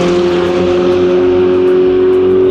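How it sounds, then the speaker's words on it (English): Ferrari 488 Challenge Evo race car passing hard on track at Clark Speedway, a loud sustained engine howl at high revs that rises and falls slightly as it sweeps by, heard alone. "And here comes the 488 Evo, pushing hard,"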